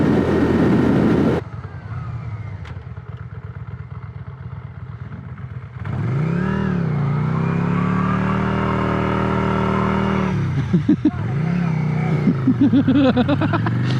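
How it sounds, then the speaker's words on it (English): Small-displacement motorcycle doing a burnout: after a short burst of loud engine noise, the engine revs hard and holds a loud, sustained roar with tire scrub, then revs again in short bursts, close up. "Rip a little burnout."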